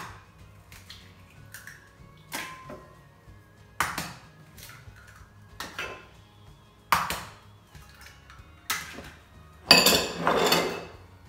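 Eggs for a lemon cake batter are beaten in a bowl, heard as separate, fairly quiet clinks and taps of a utensil against the bowl at irregular intervals, ending in a busier burst of scraping.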